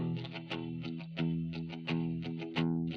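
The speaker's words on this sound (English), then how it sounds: "I added some spring reverb, which I thought was pretty cool" A distorted electric guitar plays a riff of chords with pauses, each strum trailing into a springy, splashy reverb tail that fills the gaps.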